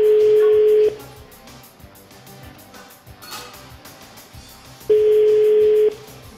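A telephone ringing tone sounds twice, two steady one-second tones several seconds apart, loud and close, with quiet background noise between them.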